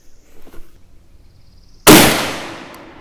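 A single sharp rifle shot firing a 35 Remington Rimmed load during a 35 Craig load workup, loud and close, bursting out after a quiet stretch and trailing off in a long decaying ring.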